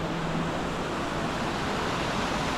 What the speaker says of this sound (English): So we're just getting to the bottom of the waterfall.